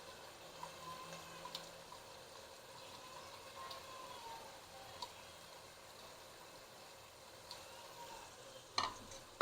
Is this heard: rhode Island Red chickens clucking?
no